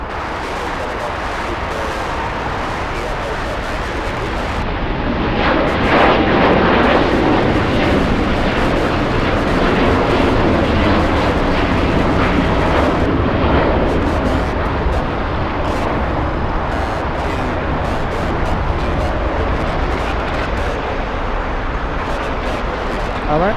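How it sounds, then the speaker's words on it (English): A Boeing 787 Dreamliner bound for Heathrow lifts off at LAX with a loud, rumbling jet roar that swells and crackles over the whole stretch, while a person talks over it. "We have the Dreamliner that's going to Heathrow, lifting off right now."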